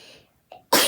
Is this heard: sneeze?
yes